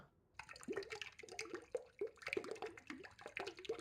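In the Italian Pizza Simulator video game, water is poured into pizza dough with a quick series of faint bubbly, gurgling pours and drips, heard alone with no one talking.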